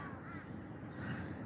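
A crow caws repeatedly outdoors, moderately close and fairly loud against a steady background hum, with no voices.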